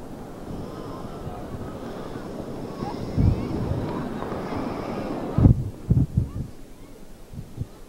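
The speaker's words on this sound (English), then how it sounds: "And the wind really whipping at the moment." Strong wind gusts buffet the microphone at an outdoor girls' high school soccer match, a steady roar of blustery noise with a few heavier thumps toward the end.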